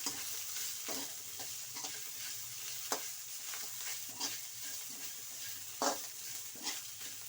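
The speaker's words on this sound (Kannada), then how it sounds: "ಈರುಳ್ಳಿ ಕೊತ್ತಂಬರಿ ಎಲ್ಲ ಹಾಕೊಳ್ಳಿ ಹಾಕಿ ಫ್ರೈ ಮಾಡಿ ಎಣ್ಣೆಯಲ್ಲಿ" Onion and coriander fry in hot oil in a home kitchen pan, a soft steady sizzle broken by occasional stirring scrapes and clicks, with no one talking.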